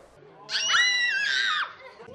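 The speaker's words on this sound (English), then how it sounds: "You could hear shrieks and shrill cries as kids and adults walked through the redecorated center." A single shrill, sustained scream rises and wavers for about a second at a haunted house tour set up in a redecorated community center, heard alone against a quiet background.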